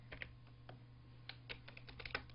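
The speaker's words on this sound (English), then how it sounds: "I'm typing funny stuff today." Keys clicking on a computer keyboard in an irregular burst of quiet, close taps, with no voice over them.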